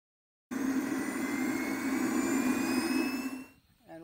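A model jet's turbine roars through takeoff, a loud, steady rush with a high whine that starts abruptly, holds for about three seconds and then drops away quickly.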